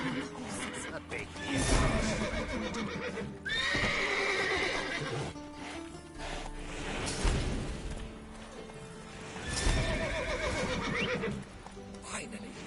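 Repeated horse whinnies and clip-clopping hooves in The Witcher 3 come in bursts across the stretch, mixed with other game sounds and some speech.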